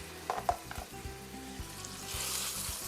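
Pork chops frying in a crowded pan, a few clanks as the meat goes in, then a rising steady sizzle that grows louder and fills the last second, close up with no talking.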